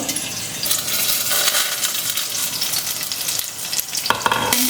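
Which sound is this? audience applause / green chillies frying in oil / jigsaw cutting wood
green chillies frying in oil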